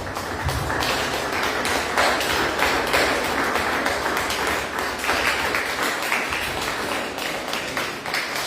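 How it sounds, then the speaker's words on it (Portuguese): A church congregation claps in praise, dense loud applause filling the space with sharp individual claps and a low rumble underneath, sustained throughout. "Dê um aplauso ao Senhor."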